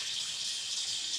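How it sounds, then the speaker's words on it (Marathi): Basmati rice is rinsed under running water, giving a continuous, even rush and splash of water close by with no voices. "हा स्वच्छ धुवून घ्यायचा, 3 ते 4 वेळा पाण्याने धुवून घ्यायचं."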